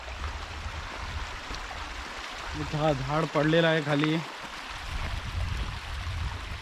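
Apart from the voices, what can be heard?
small river stream water flowing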